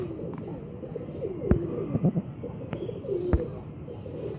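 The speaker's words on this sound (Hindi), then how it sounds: "अच्छे कबूतर हैं जी।" Pigeons cooing close by, soft throaty coos rising and falling over a low murmur, with a few sharp clicks or taps cutting in along the way; no speech.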